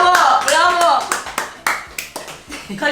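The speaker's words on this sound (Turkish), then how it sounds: "Bir alkış! Bir alkış! Bravo." A few people clapping hands in a home kitchen, several sharp, uneven claps close by, mixed with cheerful talk and exclamations.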